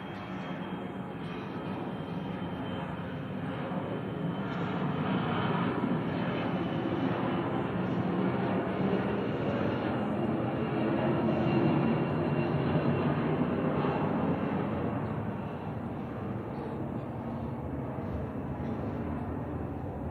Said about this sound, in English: Those aeroplanes are having a lovely time on there.